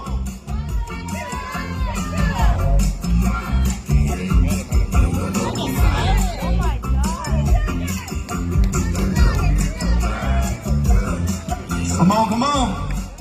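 Crowd cheering and shouting at a jalapeño eating contest, a loud continuous mix of whoops, yells and children's voices close by with people talking among them.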